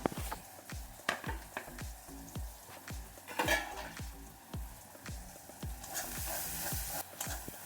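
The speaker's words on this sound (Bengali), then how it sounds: "মটরশুঁটি দিয়ে আমি ভালো করে কষিয়ে নিয়েছি।" Green peas frying and being stirred in a pan for a matar paneer kofta curry, a continuous sizzle broken by frequent clinking scrapes of a spoon against the pan, close and moderately loud.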